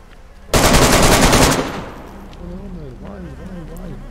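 One loud burst of rapid automatic gunfire rings out in DayZ, lasting about a second, then fades into a quieter stretch where a voice talks.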